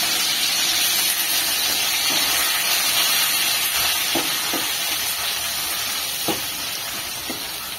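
Ginger-garlic paste and coriander frying in a pan, producing a loud, steady, close hiss-sizzle throughout, with a few faint stirring scrapes near the end and no talking.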